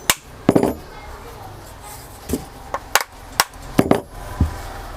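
A shaft of a ceiling fan being hammered into place, several sharp metallic knocks spaced irregularly, some in quick pairs, over a quiet background.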